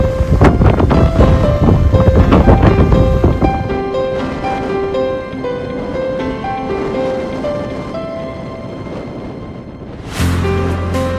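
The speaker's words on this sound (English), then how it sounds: "the gales had well and truly arrived, whipping up the water to create magnificent rainbows" Gale-force wind buffeting the microphone over open water during a storm on a Pyrenees carp fishing trip, loud roaring gusts under a soft musical score.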